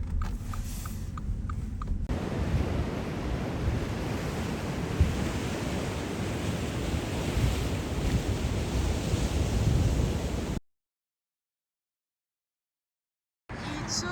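Ocean waves wash onto the beach at Yangyang on a calmer day, a broad continuous roar of surf mixed with wind buffeting the microphone, with no talking, before the sound cuts to silence and briefly returns.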